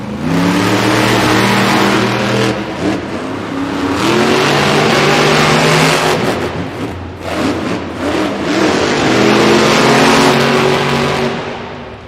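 Monster trucks Gravedigger and Earthshaker at a Monster Jam head-to-head race inside Crypto.com Arena in Los Angeles, their engines revving and roaring loudly for the whole stretch, rising and falling with throttle bursts, with no talk over them.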